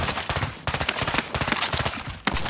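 Rapid automatic gunfire in Call of Duty Modern Warfare rattles in dense, close bursts of sharp cracks, with brief gaps between strings of shots and one last loud report near the end.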